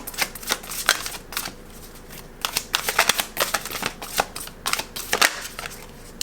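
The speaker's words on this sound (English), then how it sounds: "I'm going to pull you a few of these cards before you go." Tarot cards being shuffled before a card reading, a run of crisp riffling bursts and soft slaps in uneven clusters, close and fairly quiet, with no talking.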